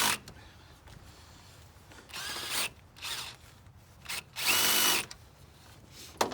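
A power drill with a socket bit drives screws straight down into black plastic crates, giving several short whirring bursts of varying length with brief ratcheting pauses between them, close and fairly loud with no talking.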